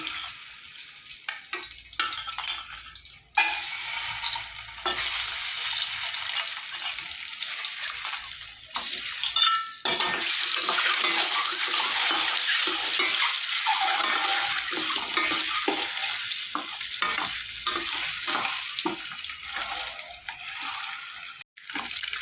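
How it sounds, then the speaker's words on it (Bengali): Eggs dropped one at a time into hot oil for an egg and spinach dish, giving a loud, steady sizzle and crackle that runs close and continuous, with occasional sputtering pops and no talk. "আমার গরম হয়ে গেছে, এবার ডিমগুলো এক এক করে ছেড়ে দেবো।"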